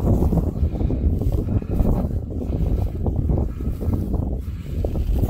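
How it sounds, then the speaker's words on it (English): Strong wind roars across the West Nab hilltop in the Peak District, a loud continuous buffeting rumble on the microphone with no letup and no voices. "it's very windy"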